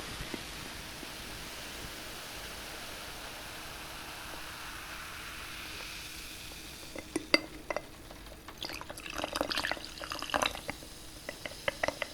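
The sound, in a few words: running water from a tap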